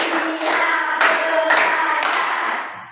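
A class of schoolchildren claps in unison, five sharp group claps in an even beat, loud and close, with a faint voice at the edge.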